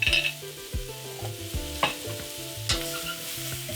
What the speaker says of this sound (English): have the spices just bloom to release their essential oils